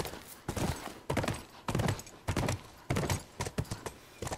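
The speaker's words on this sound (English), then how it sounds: "I need the horse to move forward here" Horse hooves clip-clopping in The Last of Us video game, a series of quick, clustered hoofbeats in repeating bursts at a steady walking rhythm, close and fairly quiet.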